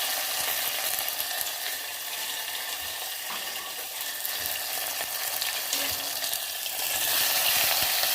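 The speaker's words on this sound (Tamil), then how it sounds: "நல்லா வதக்குங்க." Mutton curry base of shallots and garlic with salt sautés in a hot pan, giving a loud, dense, continuous sizzle with occasional stirring scrapes and no talking.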